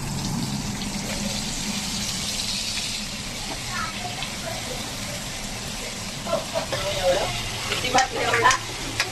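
Coated paneer for paneer chilli fries in oil with a moderate, steady sizzle, growing busier with stirring and spatters toward the end; faint voices murmur underneath.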